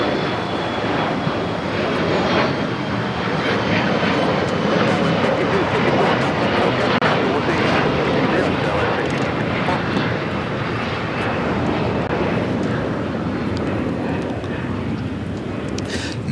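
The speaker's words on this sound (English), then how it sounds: "Next takeoff is JetBlue Airways Flight 1700 heading to Fort Lauderdale, Florida. It's an A321." A JetBlue Airbus A321 takes off at LAX, its engines a loud, steady roar that holds close and broadband the whole way through, with faint voices now and then underneath.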